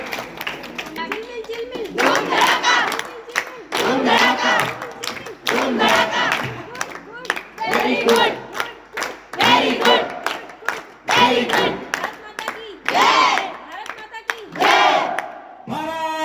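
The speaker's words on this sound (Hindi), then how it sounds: "आप इसी के लिए विशेष ताली हो जानी चाहिए" A school crowd at an Independence Day celebration claps and shouts in loud, repeated bursts. The rhythmic waves of collective voices and hands are separated by brief pauses.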